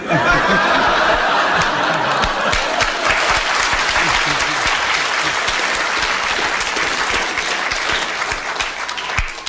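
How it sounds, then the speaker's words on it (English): Loud studio audience applause mixed with chuckles and laughter on a radio panel game show, a steady, dense clapping that carries on throughout. "You have received your round of applause."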